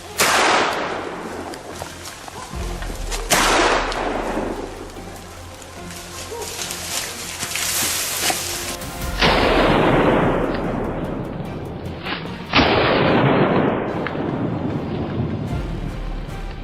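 Gunshots fired at wild boar on a Texas farm hunt: several sharp loud cracks spaced seconds apart, each with a long rolling echo decay over outdoor background noise.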